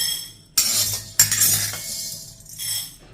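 Roasted black urad dal tipped from a pan onto a plate, a few sharp metallic clinks and scraping rattles in separate bursts, close and clear with no talk.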